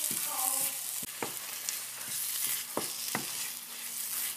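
Yam pieces fry in a pan for a vegetarian kajali ambat, giving a constant close sizzle broken by several sharp scrapes and knocks of a stirring spoon.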